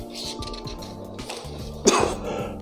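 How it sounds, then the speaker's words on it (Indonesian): A single sharp cough bursts out near the end, preceded by low murmuring and faint background noise indoors. "saya batuk"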